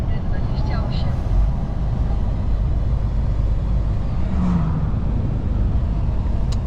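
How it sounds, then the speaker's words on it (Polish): Car approaching on a road on the French side of the border, heard from inside a moving vehicle as a steady broadband road rumble that swells briefly as it draws near, with voices talking over it. "A teraz zobaczcie, jakie autko się zbliża przed nami."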